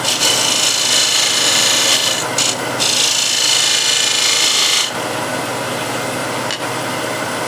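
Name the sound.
small spindle gouge cleaning wood on a lathe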